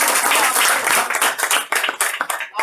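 An audience claps at a motivational speech, a short burst of dense applause close by, with no voices over it.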